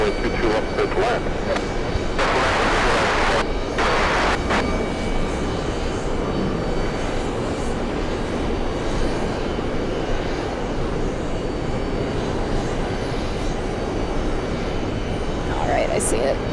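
Delta Airbus A330 airliner at JFK airport, a steady broad engine roar sustained throughout, fairly loud and continuous, with a few brief louder surges near the start.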